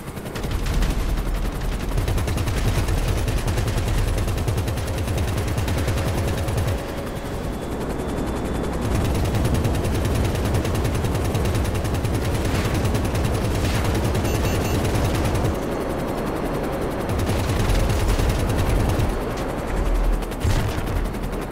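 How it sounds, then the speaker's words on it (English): Video game combat in GTA Online as a small Havok helicopter fights two Raiju jets: sustained rapid gunfire bursts over a constant droning rotor and engine roar, loud and continuous with brief lulls. "they both got cockpit sniped by the tiniest helicopter in the game"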